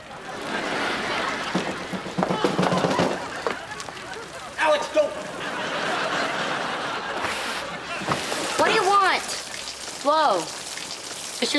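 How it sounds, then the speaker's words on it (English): Rain falls in a sitcom scene, a continuous patter and splash heard alongside brief voices and reactions. "It's just raining on you."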